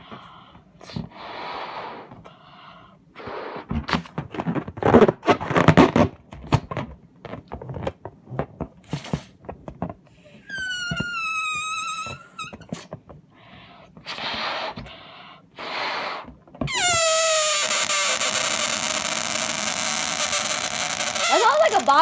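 An unstretched rubber balloon squeals in several bursts as air escapes its pinched neck: a short rising whine midway, then a long, loud, wavering screech near the end, among huffs, breaths and spoken words.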